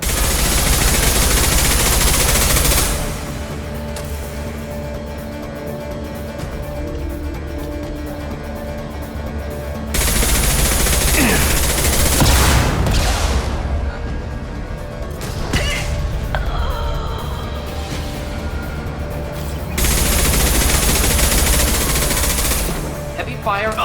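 Heavy sustained gunfire from a firefight in Mass Effect 2, dense loud bursts running in long stretches with short lulls between, under occasional game voices.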